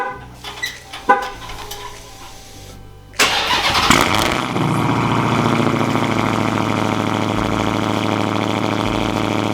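A car engine cranks and catches after a few seconds of clicks and handling noise, then settles into a loud steady idle heard close up, with no talking.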